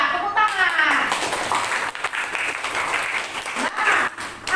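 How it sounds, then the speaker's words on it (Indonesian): Classroom students burst into steady, dense applause that fills the room, with voices chattering and calling out through the clapping. "Hebat, tepuk tangan."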